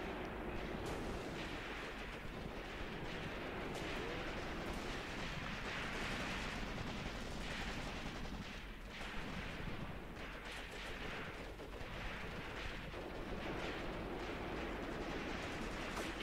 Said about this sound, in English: Yeah, they are under heavy fire